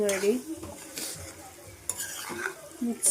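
Egg masala being stirred and fried in a pan, with boiled egg pieces mixed in: scraping spoon strokes and clinks against the pan over a light sizzle, close and moderately loud, without talk.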